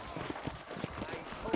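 Horse hooves clip-clop at a steady walking rhythm in Red Dead Redemption, set among horses in New Orleans, with a voice talking over the fairly quiet, close-by steps.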